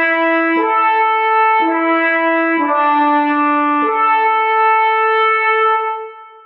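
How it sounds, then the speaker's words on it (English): A French horn call from the third movement of a Shostakovich symphony, played as a repeated figure of sustained brassy notes with clear attacks, four phrases in succession, resonant and prominent before fading. "we hear this French horn call over and over and over again"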